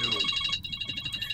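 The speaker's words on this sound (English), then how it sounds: "Rando, you better pick up that phone call." A phone rings inside the VRChat video game, a bright repeating electronic tone through the first half before cutting off, followed by low muffled voices.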